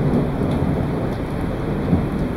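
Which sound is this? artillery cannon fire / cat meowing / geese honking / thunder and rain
thunder and rain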